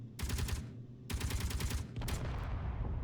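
Turrets in Space Engineers fire in three sustained bursts of rapid automatic gunfire, with short pauses between them, heard loud and close.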